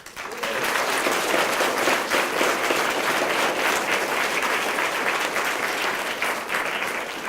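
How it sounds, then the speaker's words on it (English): An audience applauds Hamilton Elementary of Seminole County at a school event, thick continuous clapping starting after a brief quiet moment and holding steady and loud to the end. "I would like to applaud Hamilton Elementary, Seminole County as well as a whole"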